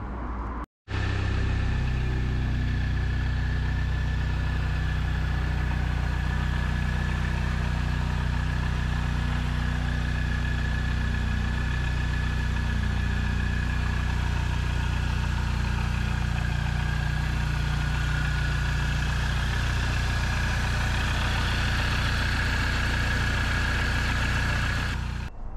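A Mini Cooper R53 with a swapped engine runs steadily on a road test drive, a loud continuous engine drone with a slowly rising tone, heard close from inside the car, with no talk.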